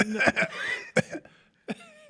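Several short, harsh coughs in quick bursts, close and fairly loud, with brief pauses between them.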